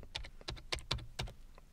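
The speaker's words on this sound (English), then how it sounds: "I'll type warning." Keys on a computer keyboard are pressed in a short run of about half a dozen quick, crisp taps, close and alone.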